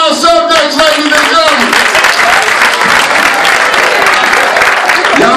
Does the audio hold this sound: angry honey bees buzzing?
no